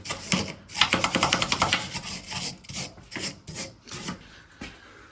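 Rapid rasping strokes scrape flaky paint and crud off a Ford Focus ST225 rear subframe, a close, rhythmic series of rough scrubbing bursts that slows toward the end.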